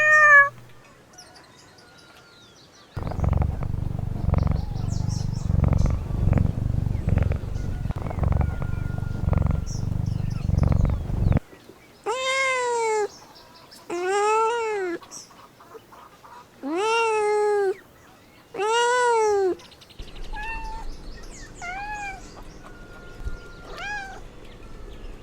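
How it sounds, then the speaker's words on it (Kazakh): A cat purrs in a low, steady rumble for several seconds, then lets out a string of loud, close meows in quick succession, followed by a quieter rumbling purr. "Мысық."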